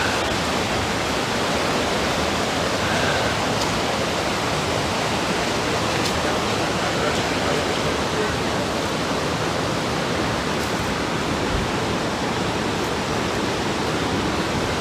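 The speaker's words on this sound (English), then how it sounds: "water's like, that's cascading down from up there all the way down through all this moss" Water cascades steadily down over moss in a small waterfall at a hidden outdoor spot, a loud, unbroken close-up rush of splashing hiss with no pauses and no voices.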